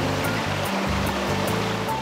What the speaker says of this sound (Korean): 계곡 물소리가 피서의 맛 살려주는 여름 한정판 자연밥상입니다